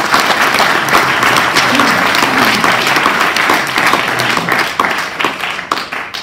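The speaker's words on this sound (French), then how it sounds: "Et je crois que là aussi vous pouvez l'applaudir pour ça." Audience applauding at a campaign list presentation event in Grasse, a dense, steady wash of many hands clapping for about six seconds, loud and close, with faint voices mixed in.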